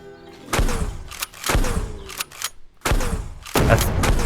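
Exterminator shotgun in the SurrounDead video game firing four heavy booming blasts about a second apart, each followed by a short mechanical clatter, loud and close.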